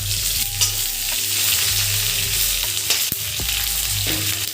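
Onions and green chilies frying in a pan for a dried-fish chutney, a steady close sizzle broken by repeated scraping stirs and clinks of a spatula against the pan, with no talking.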